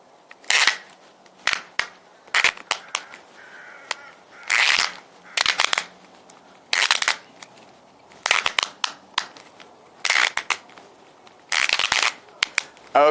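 Small-ratchet cube puzzle being twisted in repeated bursts of sharp, rapid clicking, each turn a dense rattling ratchet lasting under a second, separated by brief pauses, close and fairly loud with no talking.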